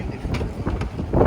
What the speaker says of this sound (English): It's probably hella windy.